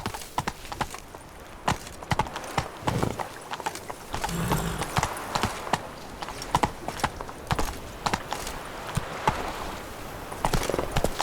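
Roach, a horse in The Witcher 3, gallops with a steady run of hoof clip-clops on ground, rhythmic and fairly close, with brief breaths or snorts mixed in and no talking.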